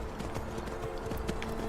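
Steady clip-clop of a horse's hooves on a road while riding in Skyrim, a continuous rhythmic trot heard under a faint ambient background.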